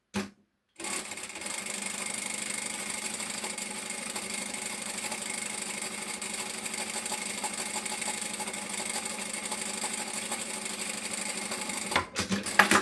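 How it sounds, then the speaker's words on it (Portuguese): A sewing machine stitches a seam along marked lines on fabric for a shoulder bag, running in one steady, continuous whir for about eleven seconds before stopping briefly near the end. "vou passar aqui uma costura em cima dos riscos"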